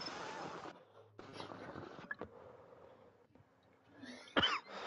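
A single cough lands near the end of a quiet stretch with faint background noise and a few soft knocks.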